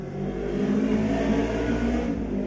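A big motorbike roars past nearby, its engine swelling to a loud steady drone with a rising then easing pitch over a couple of seconds, heard alone without speech.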